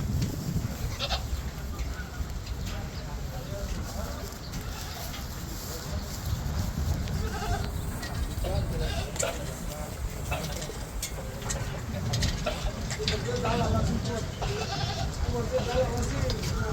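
Goats bleat here and there at a busy Eid-al-Adha cattle market, mixed with a steady crowd hum and nearby voices talking throughout.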